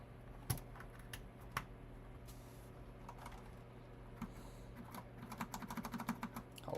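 Typing on a computer keyboard while coding, soft scattered keystrokes that turn into a faster clattering burst near the end, close and fairly quiet with no talking.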